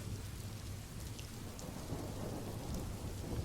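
Steady rain falls with low rumbles of thunder underneath, a continuous even wash of drops at moderate level with no voices.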